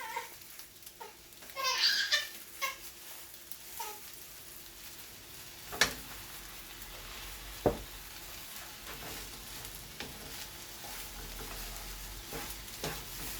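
Shrimp fried rice tossed and stirred in a hot pan with dark soy sauce, giving a steady low sizzle with scattered scrapes and clinks of the utensil, one busier burst of stirring near the start.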